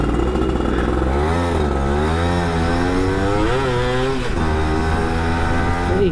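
A 2000 Yamaha F1ZR two-stroke motorcycle fitted with a Chan Racing muffler revs loud and close, its buzzing engine pitch rising and falling through several throttle blips with no one talking.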